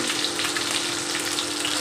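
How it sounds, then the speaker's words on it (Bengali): Fish fries in a pan in a loud, continuous hissing sizzle, close and unbroken throughout. "এদিকে মাছ ভাজা বসিয়েছি"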